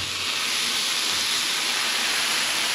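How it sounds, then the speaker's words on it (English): A pot of salted potatoes boiling on the stove gives off a steady, close hiss of steam that stays loud and unbroken throughout, with no talking. "Boiling potatoes with salt."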